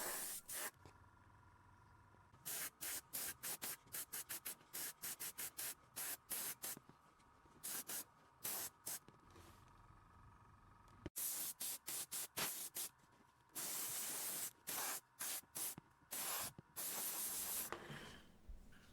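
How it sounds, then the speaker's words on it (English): An airbrush sprays yellow dye onto a leather bag piece in many short hissing bursts, close and clear, with brief pauses between them and denser spraying toward the end. "I like to use an airbrush and start with a yellow coat"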